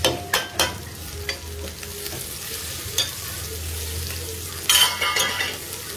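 Onions fry in a pan with a steady close sizzle, broken by a spoon or spatula stirring and scraping against the pan in irregular knocks.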